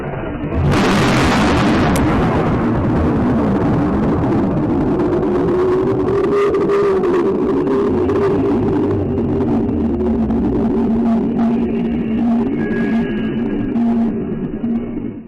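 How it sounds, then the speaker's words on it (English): A Krakatoa volcano eruption recording opens with a sudden massive blast, then a long, loud, rumbling roar with hissing noise that slowly settles over fifteen seconds. "What you just heard is perhaps the loudest sound ever recorded by humankind. The eruption of the Krakatoa volcano."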